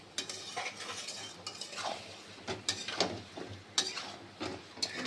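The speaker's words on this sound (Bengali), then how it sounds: "এবারে ওটা দিয়ে এটা কষাবো, ভালোভাবে কষাবো।" A tomato and Kashmiri chilli powder masala is stir-fried in a pan, with a soft sizzle under repeated scraping and clinking strokes of a spoon against the metal, close up and without talk.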